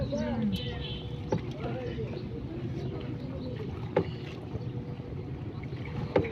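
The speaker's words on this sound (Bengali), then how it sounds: "ওই যে উনি নৌকা চালাইতেছে" A boat being rowed on the Shitalakshya river sounds as a continuous low rumble of water and wind with occasional knocks. People talk nearby.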